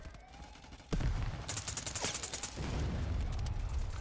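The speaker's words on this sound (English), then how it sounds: "I'm just going to fire into that corner." Gunfire in the VR shooter Forefront VR: a sudden loud shot followed by a rapid burst of automatic fire, then a sustained noisy rumble of battle.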